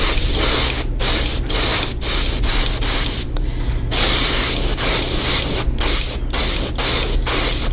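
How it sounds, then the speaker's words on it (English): An airbrush sprays paint onto a bass guitar body, a continuous close hiss broken by brief sputtering gaps and one longer pause, the uneven feathering of a partial clog. "I don't know if you guys can hear that feathering that's happening in my airbrush"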